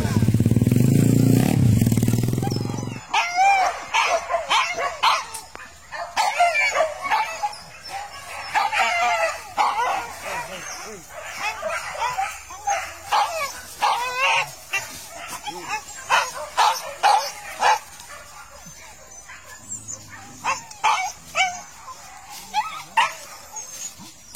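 Pack of hunting dogs out on a wild boar hunt in Muaro Kalaban, barking, yipping and whimpering in rapid overlapping bursts, following a loud motorcycle engine that cuts off early, with voices talking faintly in the background.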